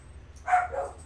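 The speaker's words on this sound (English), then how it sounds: "when the dogs are going crazy" A single short dog bark rings out at moderate distance in a quiet setting in Hong Kong, followed by a faint trailing yelp.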